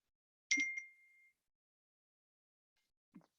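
A phone notification gives a single bright ding in a quiet room that rings briefly and fades, followed after a pause by a faint short click.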